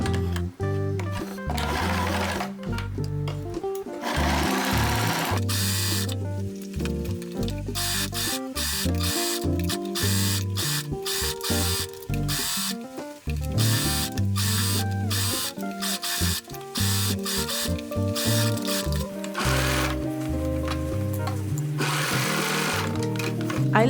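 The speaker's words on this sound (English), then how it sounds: "Sew the waist tie edges in the skirt with a 1 cm seam allowance." A sewing machine stitches the waist tie edges of a wrap skirt made from a dress, with a 1 cm seam allowance. The motor runs loud and near, sewing in steady stretches broken by short pauses, with no talk.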